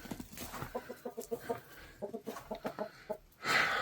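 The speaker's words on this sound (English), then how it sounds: "About to feed these roosters" Several roosters cluck in quick, repeated bursts close by in a snowy yard, ending with a louder squawk; no one speaks.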